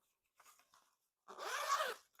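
A short quiet zipper pull on a rectangular storage bag for a Tesla roof sunshade, a couple of faint tugs followed by one longer rasping zip, close and clear.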